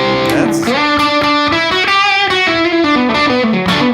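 Electric guitar played through a Violet distortion pedal with drive set around nine o'clock, a steady, saturated run of sustained notes and chords at close range, continuous and loud with no pauses.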